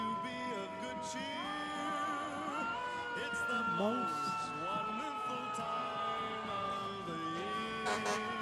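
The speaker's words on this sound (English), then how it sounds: "You've got that siren going." A Sheriff's Department siren wails and warbles through a Christmas parade, its rising and falling tones loud and continuous while people talk close by over it.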